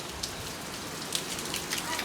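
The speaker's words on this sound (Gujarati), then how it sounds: "બહાર મસ્ત વરસાદ આવે." Rain falling outside, a soft, steady patter on surfaces with scattered louder drips, faint and even throughout.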